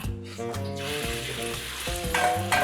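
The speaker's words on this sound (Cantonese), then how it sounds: "將嗰個韭黃煸一煸佢啊" Yellow chives stir-fried in a very hot oiled wok for chive-and-egg, steady loud sizzling with scraping and clanking of the wok spatula in a few sharp strokes.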